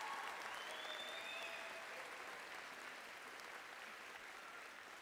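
Steady applause from a large audience at a spring commencement ceremony, a dense, even wash of clapping that continues for the full stretch at moderate distance, slowly easing in level toward the end.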